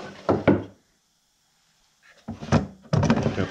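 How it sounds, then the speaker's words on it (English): A drawer built into the side of a custom enclosure for an xTool D1 laser engraver slides and knocks. There is a short wooden clatter, then a quiet pause, then two more close bursts of sliding and bumping. "This, I made a drawer on the side."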